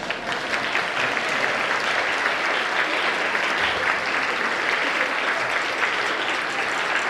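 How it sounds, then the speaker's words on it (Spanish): Applause from the audience at an Asturian Christmas traditional music concert, a continuous wash of many hands clapping, even and sustained, heard without talk. "Así que dais un aplauso para que caiga."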